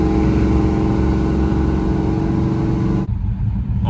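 A 1968 Dodge Coronet 500 with a 440 V8 roars under acceleration, a loud, dense and steady engine drone heard close from inside, which suddenly cuts lower near the end.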